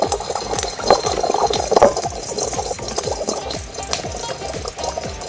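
Water is poured into a hot wok holding frying drumsticks and dried fish for a curry, giving a busy, continuous sizzle and bubbling with small clinks near the pan.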